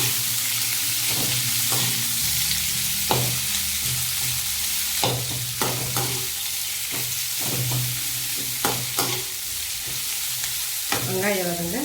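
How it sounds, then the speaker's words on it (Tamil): Four large onions sautéing in a pan for a chickpea curry: a steady hiss of sizzling oil broken by the clicks and scrapes of stirring, close and steady, with a brief faint voice near the end. "வெங்காயம் வதக்கி போட்டுக்கலாம்."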